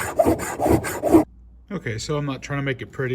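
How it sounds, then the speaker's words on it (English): Short rasping strokes of a hand file working soft metal, four or five quick close passes in a row, followed by a person talking. "I think I can just do a little bit of filing"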